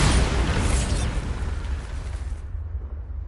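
A magical Bombarda blast spell, one loud booming explosion at the start that decays into a long rumbling, crackling tail and fades to quiet, with no talk.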